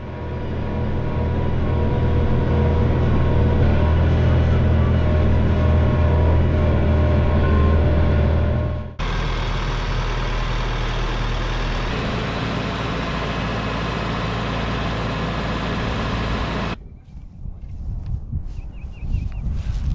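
Tractor engine running steadily and loudly up close while carrying a Texas Hunter deer feeder, the drone cutting out abruptly partway through and then continuing at a lower, rougher level before fading.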